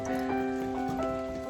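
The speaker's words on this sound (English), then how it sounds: "the rain is here! And it's filling up our rain barrels." Rain falls and pours into rain barrels at a tiny house build site, a steady patter with a sustained tonal hum running underneath throughout, no voices.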